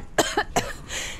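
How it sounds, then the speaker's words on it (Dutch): A character in the video game Metro Exodus coughs from dust, giving three harsh, close coughs in quick succession over a low background hum. "ze hoest maar steeds heel intens"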